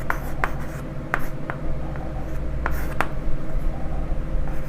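Maths is written out on a board, with sharp, irregular taps and strokes over a steady low hum.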